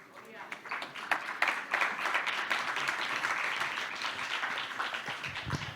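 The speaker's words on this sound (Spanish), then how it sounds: "Si ese aplauso fue para el Señor" Church congregation applauding at a Christian sermon, a dense steady wash of clapping that holds for the whole stretch at moderate loudness, with some voices mixed in.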